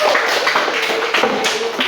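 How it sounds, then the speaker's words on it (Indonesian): Classroom of students clapping together, loud dense rhythmic hand claps close by, with faint voices mixed in. "Tepuk tangan."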